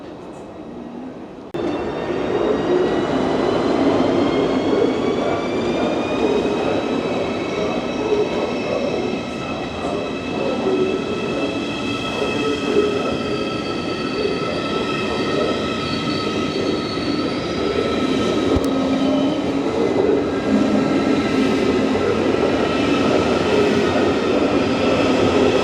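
An ICE 4 high-speed train pulls out of a German station, its rolling rumble and rising whine of traction motors building and holding for many seconds, loud and close with squealing tones above.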